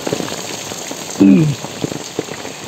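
Heavy typhoon rain patters steadily on a surface with dense crackling drops, and a voice briefly speaks over it.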